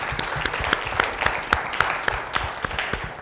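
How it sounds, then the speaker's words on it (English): Audience applauding panelists at a Black History Month unity forum, a dense steady clapping from a room full of people with sharp individual claps standing out throughout. "let's give a round of applause to all of our panelists"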